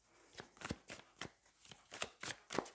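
Tarot cards being shuffled and handled up close, with about eight quiet, rhythmic riffling bursts in a row and no talking.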